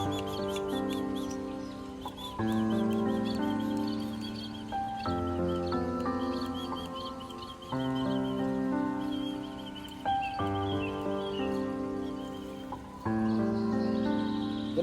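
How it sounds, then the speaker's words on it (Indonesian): A pet pit bird, a small songbird, gives repeated high chirps and squeaky calls close by, alternating with soft mouse-like squeaks in short bursts. "Ini kalau ditinggalkan si Ipin, dia selalu menyut-nyut, berbunyi seperti burung pit."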